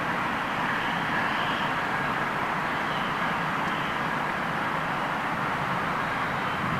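A heavy airliner departing low from Heathrow airport, its broad steady jet roar filling the air evenly and continuously throughout.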